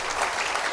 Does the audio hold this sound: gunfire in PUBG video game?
no